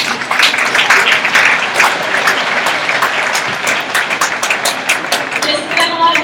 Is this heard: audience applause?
yes